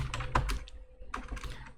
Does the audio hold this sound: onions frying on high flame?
no